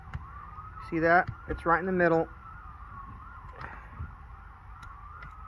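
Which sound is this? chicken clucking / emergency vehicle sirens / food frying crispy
emergency vehicle sirens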